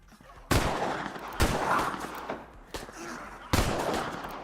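A triple-barreled shotgun fires in a sandbox video game, with four sharp, loud blasts spaced about a second apart, each followed by a decaying rumble.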